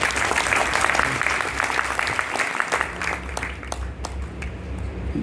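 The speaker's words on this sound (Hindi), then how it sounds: "एक बार तालियां बजाइए।" An audience at a Hindi poetry gathering claps, a full hall of hands in a lively burst that thins toward the end into scattered, sharper individual claps.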